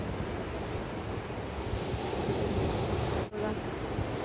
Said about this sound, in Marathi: आता एकदम त्या दगडापर्यंत मोठ्या मोठ्या लाटा यायला लागल्या.